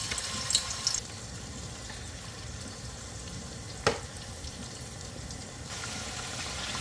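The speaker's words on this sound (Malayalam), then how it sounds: "എണ്ണ ചൂടായി നമുക്ക് ഓരോ പീസ് ഇങ്ങോട്ടിട്ട് വറുത്തെടുക്കാം." Chicken pieces fry in hot oil in a heavy pan, giving a steady close sizzle with a few louder crackling pops.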